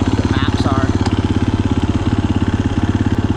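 A 2022 KTM 350 EXC-F dirt bike engine idles and chugs close by in a rapid, steady pulsing rhythm, loud and continuous without clear revving, with a few faint clicks and chirps over it.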